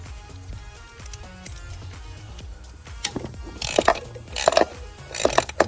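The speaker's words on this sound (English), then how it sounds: "it's just easier with the screwdriver handle" A ratcheting screwdriver handle turns fasteners on a BMW N54 engine valve cover, giving a series of quiet, rapid mechanical clicks that grow louder and denser near the end.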